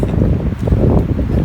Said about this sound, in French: Beaucoup de vent, là c'est en train de se lever